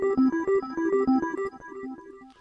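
A Reason RPG-8 arpeggiated synth pattern with delay and chorus engaged, repeating quick bright notes in a steady bouncing rhythm, the echoes smearing each step before the line fades out.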